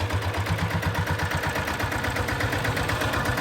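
A diesel Bullet motorcycle engine fitted with an aftermarket silencer runs steadily, a loud low pulsing thump with a throaty exhaust note throughout, alone with no talk.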